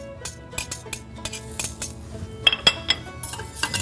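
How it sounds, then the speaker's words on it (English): Whisking marsala sauce in a pan, with rapid irregular metallic clinks and scrapes of a whisk against the pan, close and fairly steady, a few sharper ticks standing out. "we'll just whisk that until it's smooth"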